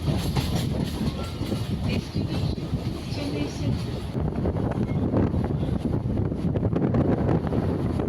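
Local EMU electric commuter train running between Arakkonam and Avadi toward Chennai Central, a steady loud rumble with rattling carriage noise and wind buffeting throughout, the clatter sharpening in the second half.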